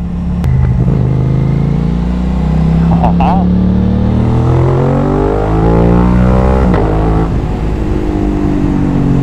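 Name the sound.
Aprilia RS 660 motorcycle riding in traffic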